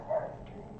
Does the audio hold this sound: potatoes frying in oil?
no